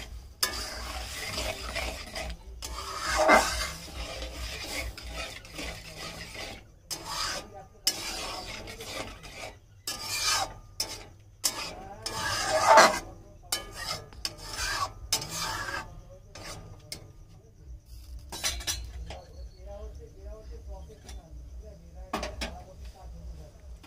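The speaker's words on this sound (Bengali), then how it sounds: "আমরা সমস্ত উপকরণগুলিকে ভালো করে নেড়ে নেব।" Mixed dal ingredients, seasoned with salt and turmeric, are stirred together in a pot. Rough, repeated scraping and rubbing strokes come in uneven bursts with short pauses, and a voice talks over parts of it.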